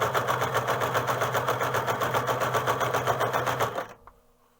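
A sewing machine runs steadily while stitching a one-layer hood, its fast even mechanical chatter close and loud for about four seconds before it stops abruptly, leaving a faint click and near quiet.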